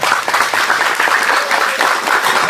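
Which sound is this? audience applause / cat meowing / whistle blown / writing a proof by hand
audience applause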